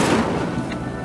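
The Incendio fire spell fires in Hogwarts Legacy as a single sharp, loud burst that fades into a brief whooshing tail.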